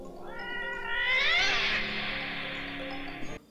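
A cat in the film American Rickshaw gives one drawn-out meow that rises, holds and then cuts off, clear and fairly close.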